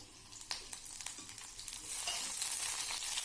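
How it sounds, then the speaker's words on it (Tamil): Garlic, dried chillies, curry leaves and tamarind sizzle in hot oil for a peanut chutney. The crackle is close and continuous, with light stirring clicks, and it swells into a brighter, denser hiss partway through. "இந்த டைமில் கருவேப்பிலையும் அந்த கொஞ்சோண்டு புளியும் சேர்த்தி இதோடைய எண்ணெயில் நல்லா வதக்கிக்குங்க"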